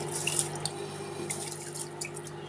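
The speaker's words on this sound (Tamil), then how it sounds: "இப்போ இதில் இந்த தண்ணியை சேர்த்துக்கலாம்." Water poured into a pressure cooker while preparing rice for kattusoru, a steady close trickle and splash with dripping, no voices.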